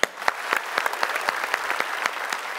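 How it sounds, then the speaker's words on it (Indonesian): A studio audience claps at an Indian singer's televised performance, steady lively applause with sharp individual claps scattered through it, fairly close and loud, no talking over it. "kita lihat tepuk tangan penonton, silakan"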